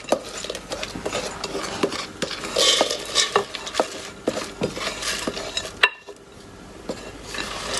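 A spoon stirring chopped almonds, mixed peel and cherries into a Florentine mixture in a pan, with repeated scraping and clinks against the metal and a soft sizzle underneath, pausing briefly near the end.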